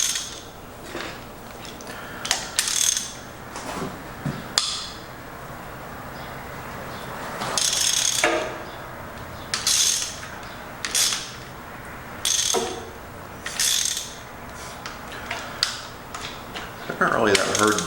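Metal wrench ratcheting and clicking in bursts while loosening a bolt on a 1949 Allis Chalmers B tractor, close and fairly quiet, with irregular pauses between clusters of mechanical clicks.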